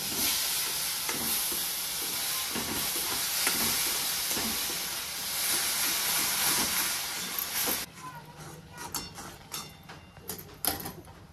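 Semolina and mango pulp are stirred in a pan, first a steady hissing sizzle with rhythmic scraping strokes, then clearer irregular clinks and scrapes of the spoon against the pan near the end, with no voices.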